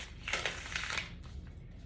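Tarot cards being shuffled during a reading, a rapid papery riffling burst in the first second that settles into softer rustling, close and alone without talk.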